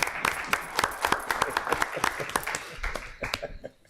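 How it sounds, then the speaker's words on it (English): A small audience applauds at a town council work session as a presenter is introduced, moderately distant, with a steady patter of clapping that thins out and stops near the end. "Round of applause for Sean."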